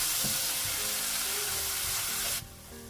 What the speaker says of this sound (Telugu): సో బాగా ఫ్రై అయ్యి ఆయిల్ పైన తేలే వరకు ఈ మేతి కూరను కూడా ఫ్రై